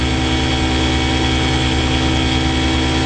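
A 1974 Johnson 6 HP outboard motor on a 14-foot boat idles loud and close, a steady unbroken buzzing drone with a constant even pulse throughout and no voices.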